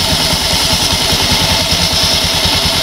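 An automatic scooter engine runs steadily at idle with its crankshaft seal area exposed, a loud, close, even mechanical pulse with no voices.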